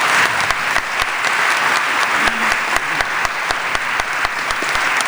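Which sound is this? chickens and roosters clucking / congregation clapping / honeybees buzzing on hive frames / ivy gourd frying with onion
congregation clapping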